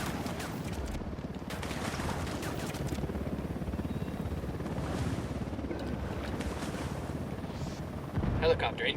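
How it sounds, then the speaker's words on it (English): Military helicopter in the Ghost Recon Wildlands video game: a continuous rough rotor roar with wind-like rushing that holds steady throughout and swells louder at the end, with possible gunfire mixed in. "Helicopter incoming."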